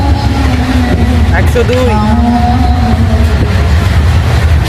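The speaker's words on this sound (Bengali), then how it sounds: "100-র ওপরে স্পিড নিয়ে আমাদের ট্রেন ছুটে চলেছে" A Tebhaga Express train of LHB coaches runs at over 100 km/h, giving a loud, continuous rumble and rattle from close by, while a voice speaks briefly over it.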